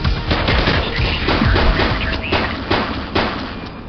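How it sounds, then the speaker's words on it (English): Gunfire in the video game The Precinct: dense, rapid automatic bursts and single shots crackle close and loud, overlapping one another in a chaotic firefight across the whole stretch. "He's shooting!"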